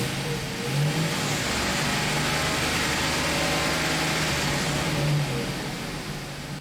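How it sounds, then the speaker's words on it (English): A GMC Savanna van engine idling with cylinder 4 misfiring, heard as a steady, continuous mid-low engine drone with a slightly uneven, rough undertone throughout. "This cylinder is only misfiring at idle"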